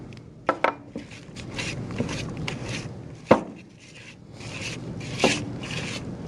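A flimsy whisk beating an egg yolk into batter in a bowl, scraping and rubbing in uneven strokes with a few sharp clacks against the bowl's side, close and alone.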